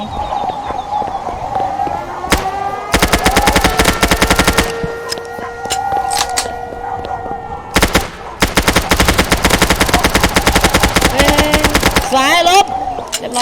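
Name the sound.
gunfire in the video game Roblox Mad City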